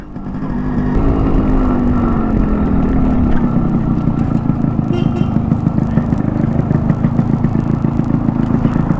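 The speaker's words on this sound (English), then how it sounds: "this is a 2-stroke bike, and that is one of the reasons why you get that ring ding ding ding ding ding ding ding wala sound from the exhaust" A Yamaha RX100 two-stroke motorcycle runs close by, its exhaust rising in a revving ring-ding pitch and then settling into a loud, rapid, crackling idle burble that holds for several seconds.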